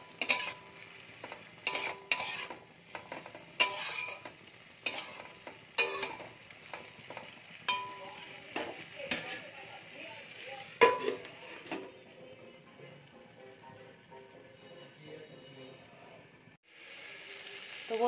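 Fenugreek leaves and small diced potatoes stirred and fried in a pan with salt and turmeric: repeated scraping clinks of a utensil over a soft steady sizzle, close and moderately loud, no talking.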